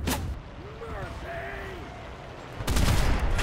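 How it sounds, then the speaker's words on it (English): Anti-aircraft guns fire in the video game Enlisted, with a short burst of rapid shots at the start and a louder, denser volley near the end, and someone talking in between. "This is a perfect opportunity to show you how completely overpowered these anti-air guns are."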